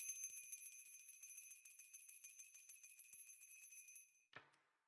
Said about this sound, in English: I have to ring the lid bell.